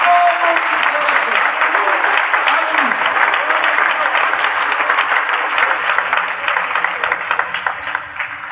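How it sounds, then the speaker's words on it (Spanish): A church congregation claps in prolonged, dense applause for several seconds, many hands together in a steady roar, with a voice briefly heard over it near the start. "Dele un aplauso al Señor con todo su corazón."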